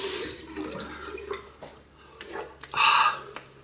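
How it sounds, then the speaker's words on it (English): Cold mountain water runs from a tap and splashes in a sink during a rinse after a shave, coming in uneven surges that swell loudly near the end. "cold mountain water to clean this off"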